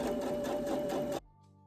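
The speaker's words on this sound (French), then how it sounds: "Je suis en machine. J'utilise un fil de couleur sable pour aller avec le motif du tissu. Alors on coud au point droit" A domestic sewing machine runs a straight stitch with sand-coloured thread on patterned fabric, a close, rapid even whirring chatter for about a second before it stops abruptly and leaves a faint hum.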